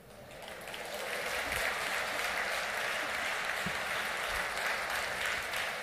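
An audience at a 2023 New Year's greetings ceremony in Mandelieu-La Napoule breaks into applause, swelling within the first second into a dense, even roar of clapping that holds steady to the end.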